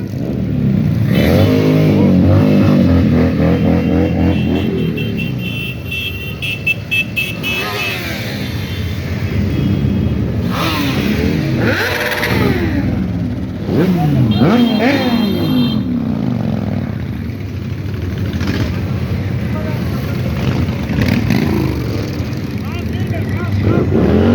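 A motorcycle engine revs repeatedly as the throttle is opened, pitch sweeping up and down in loud, close bursts, with people talking over the engine throughout.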